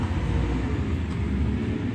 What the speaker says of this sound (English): Let me wait until the garbage truck goes by.